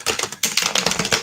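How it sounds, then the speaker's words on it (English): Playing cards shuffled right beside the microphone, a dense run of rapid riffling flicks and taps with a brief pause partway through, close and fairly loud. "Are you hearing all this noise from me shuffling?"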